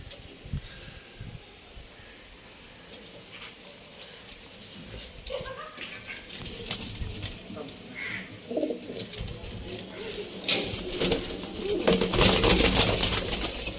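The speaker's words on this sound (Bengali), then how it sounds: "দেখুন পায়রাগুলো একবার দেখুন" Pigeons in a loft coo in low repeated rumbles alongside scuffling, wing flutters and handling noise that grow busier and louder toward the end, with some indistinct voices in the background.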